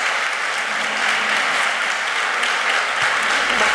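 An audience at a lecture claps in sustained, dense applause that stays steady and loud for the whole stretch, with no voices rising above it.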